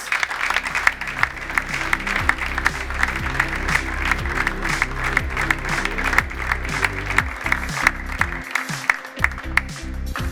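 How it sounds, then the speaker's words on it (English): Audience at the ATP Cup official draw applauding tennis legend Ken Rosewall, steady sustained clapping filling the room with a low musical bed underneath. "A round of applause."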